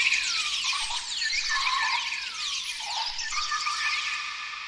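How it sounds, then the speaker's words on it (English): A jungle ambience from a free VST plugin, thick with many overlapping bird chirps and whistles over a steady hiss, with no talking. "Jungle and birds."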